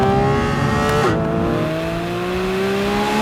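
A Porsche sports car engine runs loud and close, holding a steady drone with a brief pitch drop as it shifts, then climbing again.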